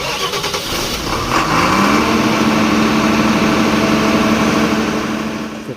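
Diesel generator set at a diesel power plant starting and running: the engine catches with a brief cranking burst, then settles into a loud, steady, rumbling run that continues to the end with no talk.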